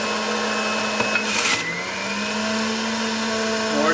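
Breville juicer grinding kale and celery, a steady loud motor whine with a steady hum that holds throughout, plus a brief harsh burst of crunching produce midway.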